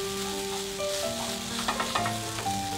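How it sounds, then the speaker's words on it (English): Veg garlic Hakka noodles with coriander and salt fry in a pan over a medium flame, giving a steady close sizzle with a few clattering stirs toward the end. "we'll cook this on a medium flame for 2 minutes"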